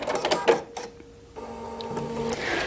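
A sewing machine runs a seam in brief, close bursts of mechanical whirring separated by a quiet pause.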